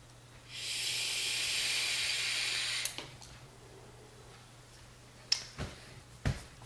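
A long draw on an e-cigarette filled with VaporFi e-liquid gives a steady airy hiss for about two seconds, then stops, followed by a few soft breathy exhales and small clicks nearby.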